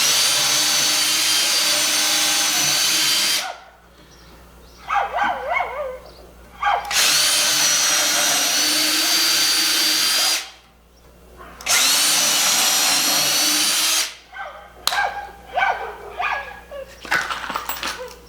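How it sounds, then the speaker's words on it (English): Power drill driving 3-inch screws into a 2x4 for a DIY raised garden planter bed, in three long loud whirring bursts separated by pauses where a dog barks nearby and tools clatter. "Again, I'll use 3-inch screws when I'm drilling in this way into this 2x4."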